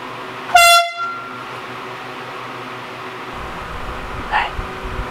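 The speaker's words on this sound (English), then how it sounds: "I'm gonna wake them up with this air horn" A single loud, piercing air horn blast rings out for about half a second to wake sleepers, then a quiet room with faint noise follows.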